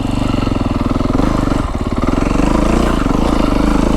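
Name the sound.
Beta 350 X-pro dirt bike engine while riding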